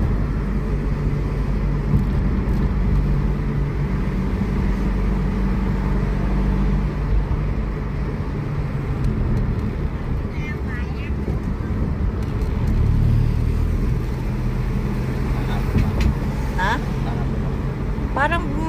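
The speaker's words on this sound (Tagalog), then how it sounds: "Ang daming sasakyan dito, nakaparking dito sa parking area" Cars and traffic rumble steadily around a busy parking area, a loud continuous low engine drone with passing vehicles beneath people talking throughout.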